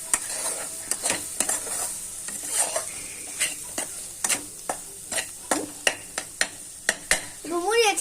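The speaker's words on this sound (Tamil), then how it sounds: "கலக்கலாம்." Curry with turmeric, chili powder and asafoetida being stirred in a pan: a string of close, sharp scraping strokes over a steady sizzle, with a brief voice near the end.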